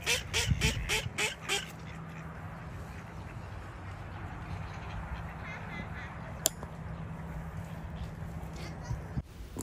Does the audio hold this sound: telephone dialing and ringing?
no